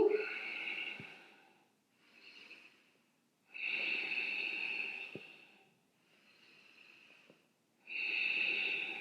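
Slow, audible breaths in a hatha yoga pose, with long soft inhales and exhales alternating in a calm rhythm, close and quiet.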